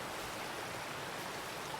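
Water rushing through a flooded creek, a steady broadband wash that stays close and even for the whole moment, with no voices over it.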